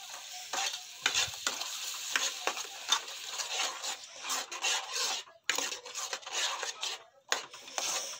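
Peas and spice paste being stirred in a pan, a close scraping and rasping of the spoon in repeated strokes over a soft sizzle, with brief pauses between strokes.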